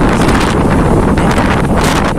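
Strong wind gusting over a seaside cliff used for fishing, loud continuous buffeting roar against the microphone with no other sounds.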